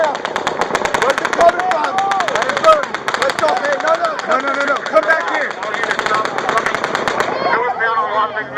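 Sustained automatic gunfire from a police shootout in Las Vegas crackles in dense, rapid bursts for the whole stretch, loud and close, with shouting voices mixed in throughout.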